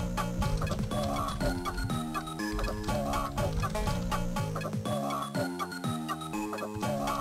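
Chickens cluck in rapid, electronic bursts in the Game Boy Advance shooting game Chicken Shoot. The clucks are loud and continuous, mixed into busy, rhythmic game music.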